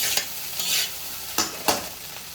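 Chicken fried rice is tossed and stirred in a hot pan, giving a sizzling hiss broken by several sharp scraping swipes of a spatula, close and fairly loud, with no speech.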